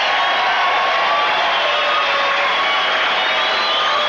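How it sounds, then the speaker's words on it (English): Boxing arena crowd roaring for Benny the Jet, a sustained loud wash of cheering and yelling that holds steady without a break. "The crowd roars as one for Benny the Jet."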